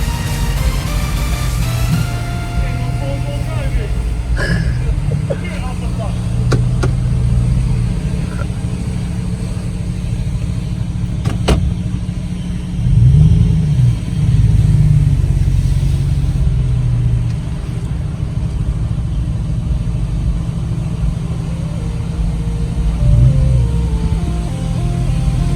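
A car idling and creeping through a giant U-turn at a Gold Touch car wash, a steady low engine drone with occasional light revs and brief clanks, close and continuous with someone speaking now and then.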